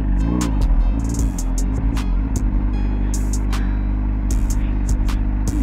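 A Honda CBR motorcycle cruising along, its engine a steady low rumble with a constant drone under gusty wind buffeting, close and fairly loud with no one speaking.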